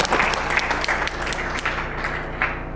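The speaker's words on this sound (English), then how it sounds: "So a round of applause, please, for Laura, if you don't mind." Audience applause at a chaos engineering talk, a dense steady wash of many hands clapping that fills the room for nearly three seconds, with faint voices mixed underneath.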